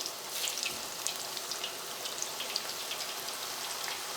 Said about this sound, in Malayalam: എണ്ണയിലേക്ക് ഇടുമ്പോൾ പതുക്കെ ഇടാം, അല്ലെങ്കിൽ മേത്തേക്ക് എണ്ണ തെറിക്കും.